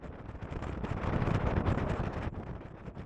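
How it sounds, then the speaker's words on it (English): Strong wind buffets at the top of a tall stone monument east of Edinburgh, Scotland, a steady roaring rush that swells and eases with no voices. "that wind was giving me the heebie-jeebies"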